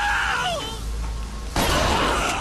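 An enemy in BioShock Infinite, played on 1999 Mode, lets out a strained, wavering scream, followed by a sudden burst of harsh, noisy game sound.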